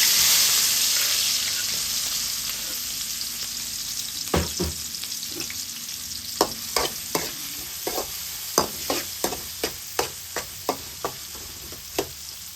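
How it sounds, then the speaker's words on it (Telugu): Chopped green chillies and onions frying in oil in a pan, starting with a loud hissing sizzle that slowly settles while sharp spatula taps and scrapes strike the pan at a steady, fairly quick rhythm. "అదే ఆయిల్లో మనం కట్ చేసిన పచ్చిమిర్చి, ఉల్లిపాయలు వేసుకోవాలి"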